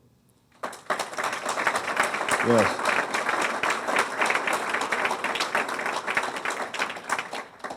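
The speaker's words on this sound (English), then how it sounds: "It's easy to get applause when you talk about the police in Brookhaven" An audience at the 2014 Brookhaven, Georgia State of the City event breaks into sustained applause for the police chief, a dense wash of clapping that starts abruptly and holds steady; a voice briefly speaks near the start.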